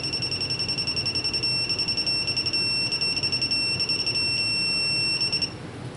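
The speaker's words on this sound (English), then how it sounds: "as we start to tighten it, you'll hear it start beeping" Rapid electronic beeping from a torque wrench while tightening cylinder head bolts on a 2007 Mini Cooper S R56, a steady high-pitched pulsing tone that repeats for several seconds and then stops, with no talking.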